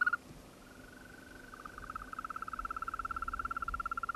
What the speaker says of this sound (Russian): Порой вокальные упражнения зеленых жаб заглушают даже крики самых многочисленных наших земноводных – озерных лягушек